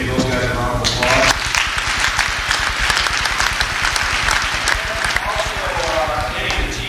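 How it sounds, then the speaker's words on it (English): A crowd at a high school event bursts into sustained applause, dense steady clapping filling the room, with a voice briefly speaking at the start. "So give those guys a round of applause."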